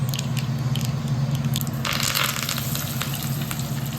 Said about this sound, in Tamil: தாளிப்புக்கு கடுகு, உளுந்து, பெருங்காயத்தூள் அண்ட் கருவேப்பிலை போட்டு தாளித்து இறக்கி அதில் ஊற்றிடலாம்